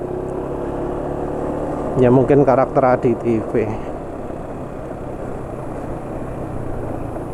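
A diesel engine running on Unioil Turbo SAE 40 oil, still sounding rough and clattery, holds a steady low drone throughout while someone speaks briefly over it.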